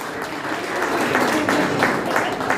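Audience at an NGO Day celebration applauds a winning team, a sustained close burst of clapping for under three seconds with faint voices underneath.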